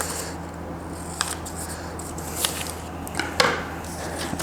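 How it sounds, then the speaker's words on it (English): Paper being trimmed with scissors during a children's craft activity, a few soft snips and crisp cuts scattered over steady low room noise, close and fairly quiet with no talking. "We'll cut off the extra paper."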